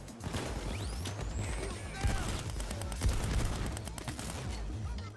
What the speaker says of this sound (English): I just fired 3 shots out of a double barrel shot.